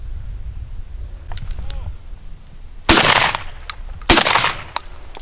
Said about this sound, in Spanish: hay que tirar con munición del 6